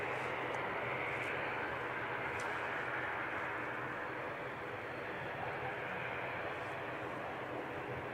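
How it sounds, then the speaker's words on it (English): An ATR turboprop airliner departs Christchurch Airport for Invercargill, heard as a steady, distant engine drone that holds level throughout with little change in loudness. "That's the ATR on the screen heading off down to Invercargill."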